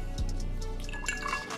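Purple Mountain Dew, Hpnotiq and lemonade poured into a glass, giving quiet dripping and trickling liquid sounds that build slightly across a short, close-up stretch with no talking.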